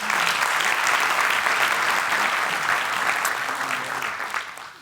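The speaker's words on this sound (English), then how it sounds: "a quick round of applause" An audience at a business summit in New York applauds, a dense, steady wash of many hands clapping together that holds strong and begins to thin out at the very end.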